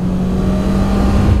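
A Honda CBR650R motorcycle engine runs with a steady, loud droning rev and a strong low hum, heard close and alone.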